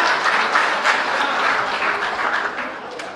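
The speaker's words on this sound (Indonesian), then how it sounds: "Beri tepuk tangan." An audience at a public talk bursts into applause, a dense and fairly loud roar of clapping that swells and fades slightly over a few seconds with no voices on top.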